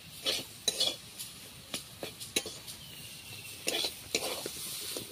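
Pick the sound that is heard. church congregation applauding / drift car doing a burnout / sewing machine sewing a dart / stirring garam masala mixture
stirring garam masala mixture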